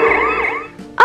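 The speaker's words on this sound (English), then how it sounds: "That is the sound of the police truck." Electronic police truck siren from a Paw Patrol children's toy tablet, a short wavering synthesized tone with rising and falling sweeps, fairly loud and close, ending in a brief burst of another sound.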